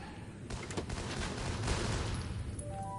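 Bursts of gunfire from the Marvel's Kraven video game crack out in a rapid volley of sharp reports, dense in the middle and easing toward the end, fairly close and loud.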